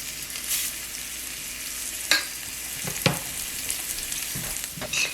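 Bacon grease in a hot pan, a steady close hiss of sizzling fat with a few sharp pops and spatters, no voices.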